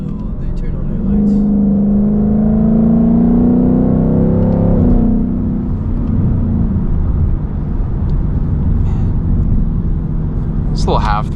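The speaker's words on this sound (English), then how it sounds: "This little half throttle just sounds so nice." A 2022 Ford Mustang GT with a 10-speed transmission, at half throttle on a night drive, gives a loud engine note that climbs in pitch for several seconds, then settles into a steady, deep drone inside the cabin.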